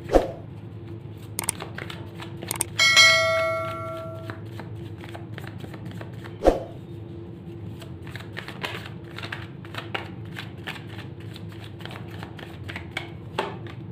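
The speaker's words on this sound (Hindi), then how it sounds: "सो शफल कर लेते हैं कार्ड्स फॉर एक्वेरियस।" A deck of tarot cards is shuffled by hand, with crisp riffling and fluttering bursts, a few sharp taps and a steady soft clatter, close and alone without speech.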